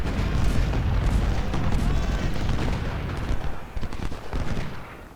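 Parrott and Whitworth artillery and gunfire in the Civil War strategy game Ultimate General: Civil War form a dense, continuous rumble of cannon booms and musketry, with distinct reports near the end and speech faint underneath.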